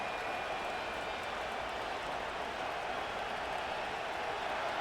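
Steady stadium crowd noise from the Madden NFL 25 video game plays at a constant level throughout. It is a broad, roaring wash with no distinct cheers or claps, and no voices are heard.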